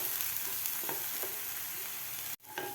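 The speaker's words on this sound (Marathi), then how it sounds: "व्यवस्थित आपल्याला हे वाटण परतून घ्यायचं आहे." Green masala paste sautéing in a pan gives a soft steady sizzle with a few light stirring scrapes, quiet and close, briefly cut off near the end before resuming.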